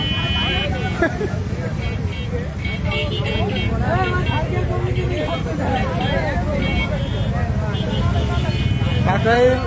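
A congested road near the Bangladesh–India border, jammed with motorcycles during an Eid crowd, produces a constant rumble of engines with occasional horn toots while people talk over it.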